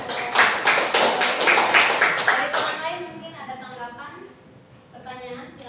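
A classroom group claps in a burst of rapid, fairly loud applause that fades after a few seconds, followed by voices talking.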